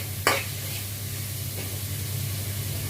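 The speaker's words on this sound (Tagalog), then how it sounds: "At syempre magigisa na rin ako ng cabbage ng repolyo with hipon" Cabbage sautéing with shrimp and tomatoes in a pan, giving a soft, steady sizzle and hiss with one sharp utensil clatter near the start.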